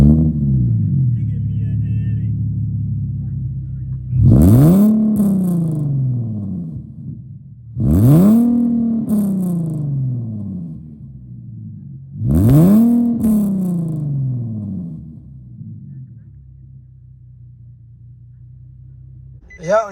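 An Infiniti G37 with aftermarket downpipes, idling with a low rumble and then revving hard three times, each loud raspy blip rising and falling before settling back to idle, close and dominant.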